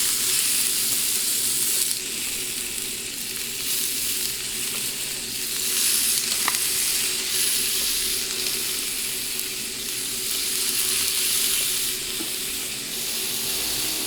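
Fish laid on a hot sač pan for a Bulgarian breakfast sizzles loudly and steadily, a constant hiss of frying with faint shifts as it settles, no voices over it.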